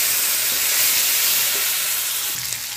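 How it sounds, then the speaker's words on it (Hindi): Ginger and garlic sizzle steadily in hot oil with roasted cumin, cloves and green cardamom while cooking a dhaba-style masala paneer, a loud continuous frying hiss with faint stirring scrapes and no talking. "अब हम इसमें डाल देते हैं अदरक लहसुन।"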